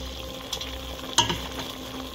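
Beef tripe being stirred in a cooking pot, a low simmering sizzle with a couple of distinct utensil knocks against the pot.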